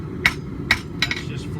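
A hammer taps hot steel together on an anvil during forge welding of a back scratcher, giving four quick, bright metallic rings in an uneven rhythm over a low steady background hum.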